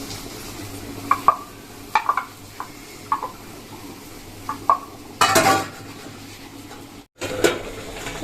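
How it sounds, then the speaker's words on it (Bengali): Dishes, pots and pans being scrubbed and washed by hand in a home kitchen, with scattered clinks and knocks of utensils in the first half, then a burst of running water and rinsing near the end. "এগুলো হতে হতে যতটা হয় বাসনটা মেজে নিই আর কি"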